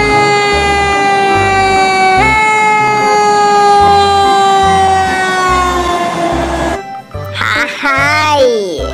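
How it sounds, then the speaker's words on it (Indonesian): A loud electronic siren wails steadily with a pulsing low beat underneath, then breaks into warbling, sweeping tones near the end. "Ini mobil pemadam kebakaran, teman-teman."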